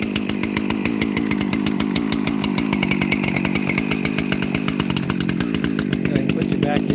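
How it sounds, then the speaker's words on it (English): A chainsaw cuts into a tree for firewood, its engine snarling loud and close with a steady rapid chatter that holds through the whole stretch. "So I'm going to try to go at this and hold my saw at a similar angle."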